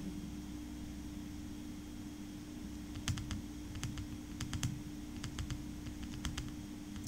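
Typing on a computer keyboard while filling in a Word document: bursts of quick, light key clicks in clusters from the middle onward, faint over a steady hum.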